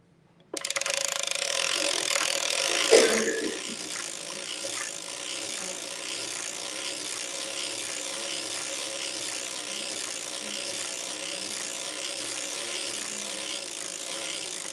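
A hand-cranked knitting machine ribbing coozies produces a fast, even ratcheting clatter. It starts abruptly with a brief louder surge, then settles into a steady mechanical rattle, close and with no talk.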